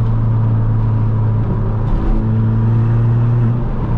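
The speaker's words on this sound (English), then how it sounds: "Oh, the car does sound good." A modified MK6 Ford Fiesta Zetec S with a Hornet straight pipe exhaust drives along, giving a loud, continuous low droning exhaust note heard from inside the car, with slight changes in pitch as it cruises.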